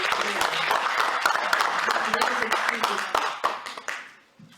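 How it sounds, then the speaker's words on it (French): An audience claps for a supervising team at an award ceremony for an earthen-construction design competition, a sustained round of applause with a voice speaking over it before the clapping fades out. "Je voudrais qu'on applaudisse ces gens-là."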